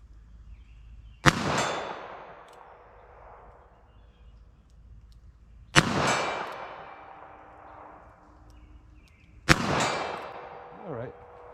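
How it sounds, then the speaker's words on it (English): Three sharp .22 Magnum gunshots fired at a target 50 yards away outdoors, each a loud crack with a ringing decay, spaced a few seconds apart, the last followed by a faint metallic ping. "See if I can hit with the 22 mag and see how the 9mm compares."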